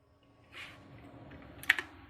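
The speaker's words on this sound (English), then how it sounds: "It's a clickety-clackety mouse combo." Typing on a new clicky computer keyboard, with a soft burst of keystrokes followed by a sharper cluster of clacks near the end, close and fairly quiet with no talking.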